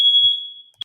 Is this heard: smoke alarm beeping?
yes